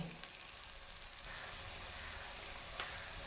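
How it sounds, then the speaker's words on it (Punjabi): Hot oil tempering for matar paneer sizzles softly and steadily in a pan, with a brief crackle near the end. "ਤੜਕਾ ਸਾਡਾ ਭੁੱਜ ਕੇ ਤਿਆਰ ਹੈ"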